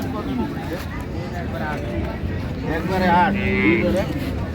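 Cows moo at a busy cattle market, one long drawn-out low call rising toward the end over a crowded hubbub of voices and nearby talk.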